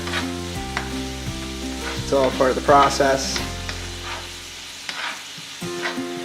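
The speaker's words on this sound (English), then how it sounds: "In goes the butter. Be careful, when it's on high heat, butter will pop." Butter sizzles and pops steadily in a pan on high heat, with a voice speaking briefly over the frying and soft background music.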